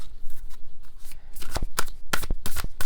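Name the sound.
shuffling a deck of cards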